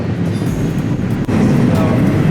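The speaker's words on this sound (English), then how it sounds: "Man, this train's long." A long train rolls past nearby in a loud, continuous rumble of wheels and cars that swells slightly toward the end, with faint voices in the background.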